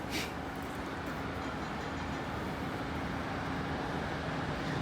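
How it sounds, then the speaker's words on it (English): A train rumbles steadily as it draws near a level crossing, a continuous low roar of wheels and engine with no voices. "Here we are, last train now approaching."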